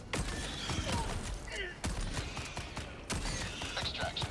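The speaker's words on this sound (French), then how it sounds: "Vous pouvez laisser la tourelle faire le taf" Sentry turret in the video game Helldivers 2 firing in rapid mechanical bursts, sharp repeated shots with clanking, whirring mechanism sounds and short breaks between volleys, loud and close.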